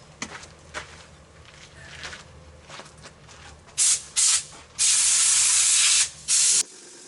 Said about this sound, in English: now I'm going to do the screen